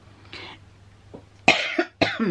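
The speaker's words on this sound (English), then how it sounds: "I'm coughing" Several coughs close by: a faint one first, then two sharp, harsh coughs in quick succession, fairly loud against a quiet background.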